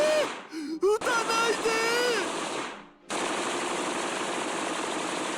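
Sustained automatic gunfire in the Steins;Gate video game, a dense continuous rattle that fills the last half; before it, brief screams and wavering voices cry out.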